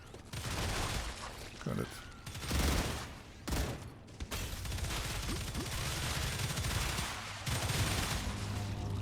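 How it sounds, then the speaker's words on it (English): Artillery defense towers fire in the sci-fi game StarRupture, making a dense, continuous barrage of booming shots and rapid bursts with brief lulls, while someone talks over it. "Oh, really big number of artillery here."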